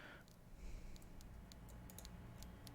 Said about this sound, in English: Ooh, I hear a typewriter.